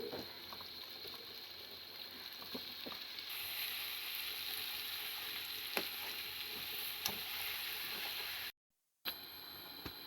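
Chopped onion and meat fry in a pan with a loud, continuous hiss that swells partway through, broken by occasional scraping clicks from stirring and a brief dropout near the end; no one talks.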